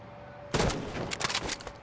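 Sniper rifle shots ring out in a video game firefight, a loud sudden blast followed by several sharper cracks spread over about a second, with no talk over them.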